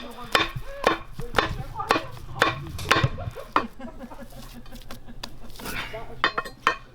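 Earth is pounded by hand to make a mould for bronze casting, producing a run of close, irregular heavy thuds while several people talk.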